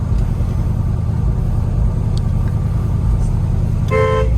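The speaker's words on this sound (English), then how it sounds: "They probably think we're honking at them. But the horn works." Engine rumble from inside a moving 1972 Chevrolet Chevelle, then a single short honk of the horn right at the end, close and loud.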